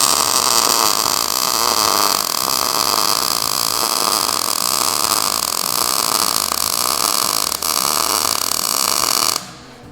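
A MIG welder lays a hotter bead with raised voltage and wire speed, giving a steady, loud, continuous crackling buzz like frying bacon for about nine seconds before it cuts off abruptly near the end.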